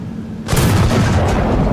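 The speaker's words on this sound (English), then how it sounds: "Ukrainian artillery opens precise fire" Artillery opens fire on an armored column: a sudden loud blast erupts and rolls on into a heavy, sustained rumble.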